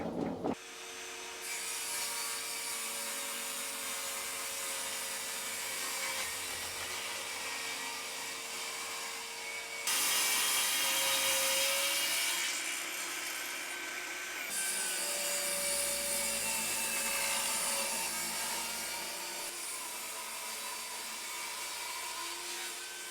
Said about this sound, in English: I'm going to get it ripped into 4 pieces on the table saw first